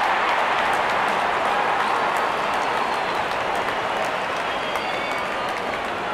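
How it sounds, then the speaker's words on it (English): A stadium crowd in the cricket video game Real Cricket 24 cheers and applauds continuously as the opening batsmen walk out, a dense, loud, steady roar with no break. "Out come the openers, cheered by a good crowd in."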